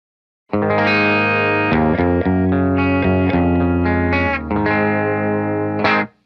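Heavily distorted electric guitar through a cranked Vox AC15 tube amp, sustained crunchy chords changing every half second or so, loud and saturated, ending abruptly.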